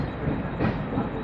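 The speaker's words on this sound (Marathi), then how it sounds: "हे बघा कर्जत लोकल आहे" A Karjat local suburban train rolls past nearby, a steady, loud rumble of wheels and carriages running without a break for the whole moment.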